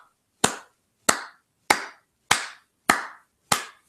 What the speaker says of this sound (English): And so this round of applause